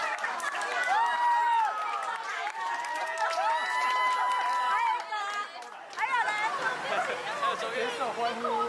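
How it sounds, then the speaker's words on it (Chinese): Friends gathered at a church entrance cheer and call out in a lively crowd, with excited voices, whoops and chatter overlapping throughout, dipping briefly before swelling again. "举手欢呼！"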